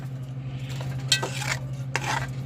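A spoon stirs soup containing real bacon bits, two quick scraping clinks against the pot over a low steady hum.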